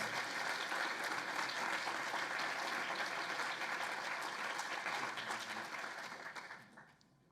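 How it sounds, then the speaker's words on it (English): Sustained applause from an audience at an engineering college awards ceremony, greeting the nominees for a citizenship and service award; dense, steady clapping that holds for several seconds before fading out near the end. "let's give all of our nominees in the category of citizenship and service a huge round of applause"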